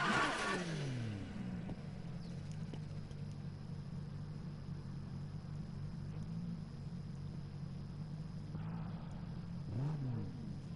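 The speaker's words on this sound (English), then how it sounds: "See the sound of the engine? See how noisy it is, loud." A race car engine roars in a Need for Speed 2015 street race, a loud steady drone that climbs in pitch at the start and again near the end as the car revs up.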